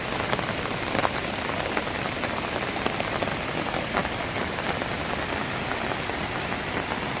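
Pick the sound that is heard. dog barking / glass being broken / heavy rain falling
heavy rain falling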